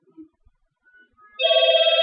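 A telephone rings in a pawn shop, a sudden loud electronic warble that starts after a quiet moment and continues steadily at close range, following a few faint scattered noises.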